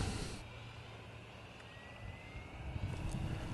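An E-flite Carbon-Z Cub RC airplane flies in gusty wind, its electric motor a steady drone under loud, rumbling wind buffeting on the microphone.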